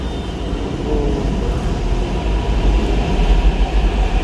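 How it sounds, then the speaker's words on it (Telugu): Steady low rumble and rolling hum inside a moving metro train, continuous and fairly loud, with no talking. "ఫస్ట్ టైం మా పాప అయితే మెట్రో ఎక్కుతూ ఉంది."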